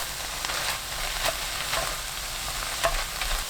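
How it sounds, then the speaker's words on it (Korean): Dried gondre greens with green onion being stir-fried in a pan over medium heat: a steady, close sizzle with soft scraping stirs every second or so, no voices. "파 넣고 중불로 켜서 1분 볶아주세요."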